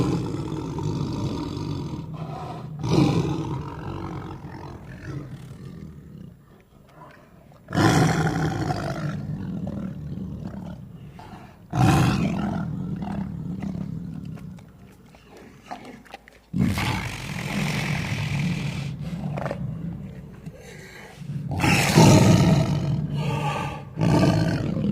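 A tiger roars in a series of loud, close bursts, several heavy roars separated by short gaps and quieter growling breaths, with no voices present.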